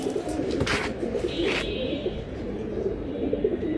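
Pigeons coo and murmur at a busy pigeon market where silver, fantail and other fancy pigeons are sold, a steady low cooing chorus running throughout with a brief chirp near the start.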